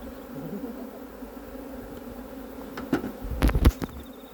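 Steady honey bee buzzing hums throughout, joined near the end by a few louder, close-up bursts of movement and handling.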